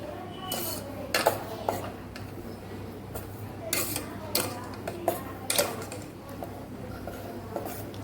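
A spoon scrapes and taps against a steel pan while sugar syrup for mango pickle is stirred on a gas stove, giving irregular metallic clinks over a low steady hum.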